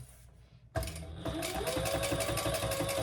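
A sewing machine runs steadily and loudly, stitching a messenger bag from the outside near its magnetic snap. It starts abruptly after a quiet moment and hums continuously to the end.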